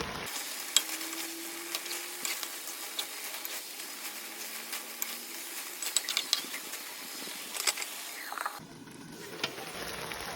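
Shrimp fry in reduced oil in a pan while being stirred, a continuous crackling sizzle with scattered scraping clicks from the utensil, close and moderate, cutting off near the end.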